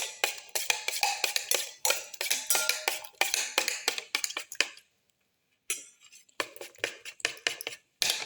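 A utensil mixing and crushing garlic pieces and black pepper for an omelette, giving rapid rhythmic taps and clinks against a bowl, close and busy, with two brief pauses.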